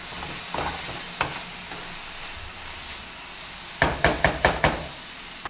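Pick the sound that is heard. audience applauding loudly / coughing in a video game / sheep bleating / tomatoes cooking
tomatoes cooking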